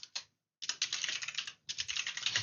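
Rapid keystrokes on a computer keyboard while entering programming code, with a short tap, a half-second pause, then two dense bursts of clattering typing, close and fairly quiet.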